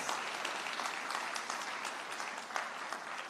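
An audience at a Jamaican national AI lab signing ceremony applauds a minister, a dense, even patter of many hands clapping continuously at moderate volume throughout.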